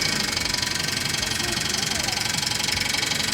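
Engine running an endurance test on a Holley Sniper fuel injection setup, a steady loud rumbling drone that stays constant throughout with no talk.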